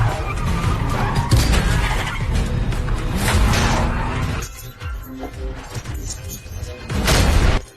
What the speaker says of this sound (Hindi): अगले ही पल गाड़ी अचानक बेकाबू हो गई और सीधे जंगल में घुस गई।